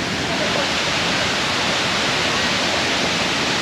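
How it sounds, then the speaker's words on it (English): Thiruparappu waterfall drops 50 meters in Kanniyakumari, Tamil Nadu, giving a dense, even roar of falling water that holds steady throughout. "The waterfall falls from 50 meters height and the length is 300 meters"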